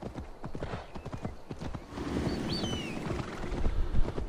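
Horse hooves clip-clop steadily on a road in Assassin's Creed Valhalla, a rhythmic gait close by and fairly loud, with a brief whinny-like call and faint bird chirps in the background and no talking.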